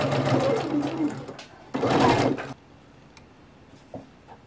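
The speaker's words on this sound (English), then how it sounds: "what we'll do as a next step is to stitch down the elastic at the edge" A sewing machine stitches elastic down onto the edge of bloomer shorts, running loud and close in two bursts of rapid whirring, then stopping, leaving a quiet room with a faint click.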